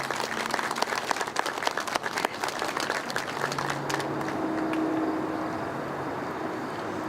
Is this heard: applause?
yes